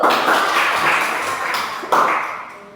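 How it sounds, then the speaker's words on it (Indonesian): A group of students in a classroom clapping their hands, a dense burst of applause that fades slightly, then a second sharp burst near the end. "Tepuk tangan dulu."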